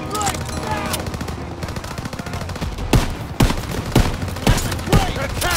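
Gunfire in the video game Call of Duty WW2, a rattling fusillade of shots followed by several sharp, loud single cracks at a steady pace, with shouting voices underneath.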